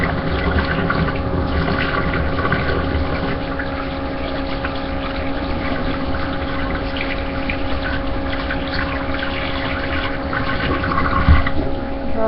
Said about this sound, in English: I'm going to wash my hands again so I don't put onion in my eyeball